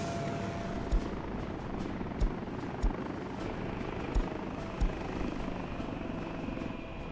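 Helicopter in the Workers & Resources game, a steady quiet rotor and engine drone running throughout, with several brief sharp clicks standing out at intervals.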